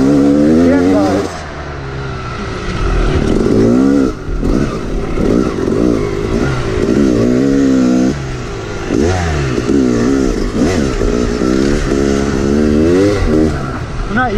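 A YZ 250 dirt bike engine revs and pulls through gear changes close by, rising and falling in loud repeated bursts for most of the stretch, with a voice speaking briefly over it.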